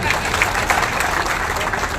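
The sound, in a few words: crowd applauding at a Rajput community rally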